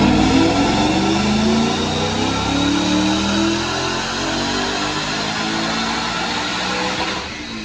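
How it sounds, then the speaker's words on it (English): A 2017 Mustang GT with a manual gearbox, headers and a Whipple Stage 2 supercharger does a dyno pull, its engine droning loud and steady with a rising whine, fading slightly near the end. "Check out this dyno pull."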